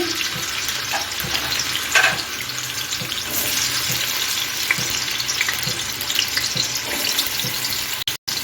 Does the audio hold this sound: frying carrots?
yes